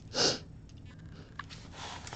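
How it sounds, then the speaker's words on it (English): One short, sharp sniffle close to the microphone, followed by soft breathy background noise. "Excuse me for the sniffles."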